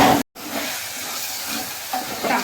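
Tomatoes frying in a pan for a river pomfret fish curry, a continuous sizzling hiss with a brief cut near the start and faint stirring scrapes.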